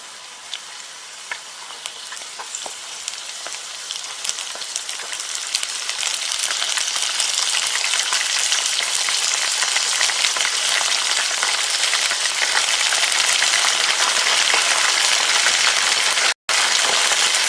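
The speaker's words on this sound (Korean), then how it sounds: "근데 보시게 되면 다른 튀김에 비해서 굉장히 기름이 많이 튑니다." Pieces of fish for sweet-and-sour fish deep-frying in oil, a dense crackling sizzle full of spattering pops that swells louder after the first few seconds and holds steady, close and alone, with a brief drop near the end.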